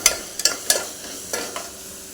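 A spoon scrapes through onions and tomato frying in a pan, giving several quick, close stirring strokes over a soft continuous sizzle.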